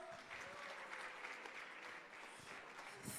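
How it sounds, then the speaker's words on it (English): Audience applause at a wealth summit, a steady, dense wash of clapping that fills the whole stretch at moderate distance with no voices over it. "Another round of applause."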